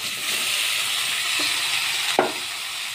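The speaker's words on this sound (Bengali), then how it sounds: "দিয়ে আমি ভালো করে নাড়াচাড়া করব।" Boiled cauliflower stalks and black cumin are stirred in a hot pan for a Bengali chorchori, giving a steady sizzle with a sharp scrape of the spoon near the end and no talking.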